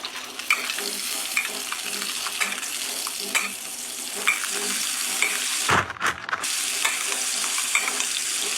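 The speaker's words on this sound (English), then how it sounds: "we'll just baste it with a little bit of butter" Short rib basting with butter in a hot pan, a close continuous sizzle with rhythmic spoon ticks and scrapes and a brief muffled clatter midway.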